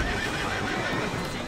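A horse in the video game Assassin's Creed Syndicate whinnies in a drawn-out neigh, moderately loud, with faint hoof clatter underneath.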